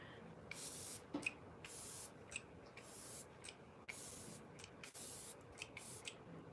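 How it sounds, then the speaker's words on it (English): Glow Recipe Watermelon Glow Ultrafine facial mist is sprayed in a series of short, airy bursts, about eight puffs in quick uneven succession, close and fairly soft against a quiet room. "It is the Glow Recipe Watermelon Glow Ultrafine Mist."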